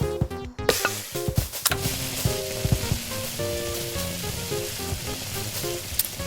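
Homemade French fries frying with a constant crackling sizzle, broken by clattering knocks and scraping from stirring or utensils, close and fairly loud throughout.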